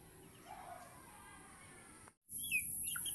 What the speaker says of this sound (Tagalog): Ito ang mga sisiw, oh.